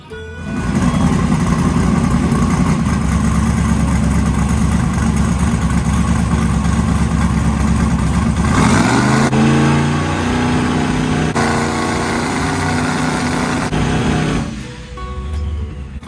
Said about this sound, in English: got the truck ready to fire up, warm up, and test it on the brake to see if it comes up on boost